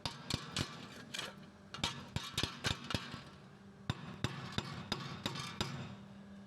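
Sharp metallic hammer strikes on a Ford Explorer rear axle during a rear wheel bearing job, irregular clusters of close, fairly quiet blows with short pauses between them.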